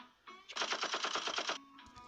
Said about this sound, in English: Whoa, Glitchbox, are you sure that's an AP pistol?